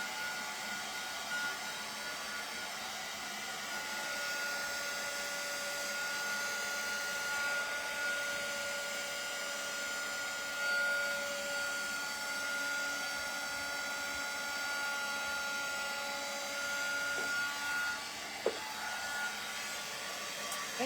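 A loud electric dryer blows steadily outdoors while drying a DIY cable spool table, a continuous whirring hum with a high steady whine, unbroken for the whole stretch.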